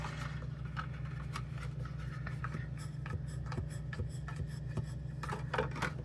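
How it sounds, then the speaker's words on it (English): Bone folder pressing and rubbing down a paper box tab, a soft, close scraping and rubbing that comes in several short passes over a steady low background hum. "with my bone folder on the inside, I'm going to press that down and seal it."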